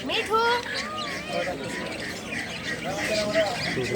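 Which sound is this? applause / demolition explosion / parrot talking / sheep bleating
parrot talking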